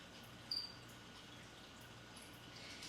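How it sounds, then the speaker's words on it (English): Crickets kept indoors in a house alongside a tank of Cuban tree frogs chirp faintly and steadily in a quiet room, with a few thin high trills and no voices. "If you've heard the crickets, that's why."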